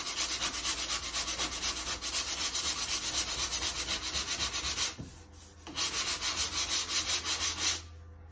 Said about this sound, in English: Now, if I sandpaper this, we're going to sandpaper until I can't feel it anymore.